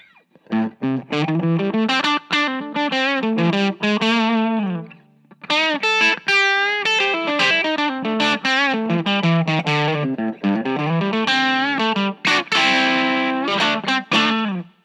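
An electric guitar through a JFET overdrive pedal plays a continuous melodic phrase with a warm, crunchy overdrive, with sustained notes and chords ringing out, no talking.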